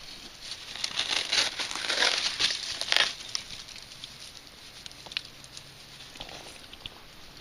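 Dry palm fiber tinder gathered by hand in the outdoors, giving close, soft crinkling and crackling rustles that build for a few seconds and then fade to scattered faint crackles.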